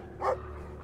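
A dog in the video game Brothers: A Tale of Two Sons lets out a single short bark, fairly faint against a quiet background hum.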